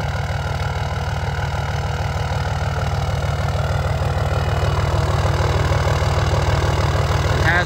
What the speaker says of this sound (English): Love these old trucks. They sound really good. And you can even hear the turbo a bit through the straight pipe.